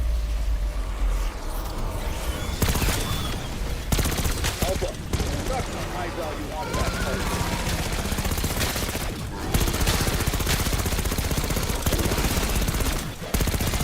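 Rapid bursts of GPMG-7 machine gun fire in Black Ops 6, sustained and loud, with several short pauses between long strings of shots, mixed with a talking voice.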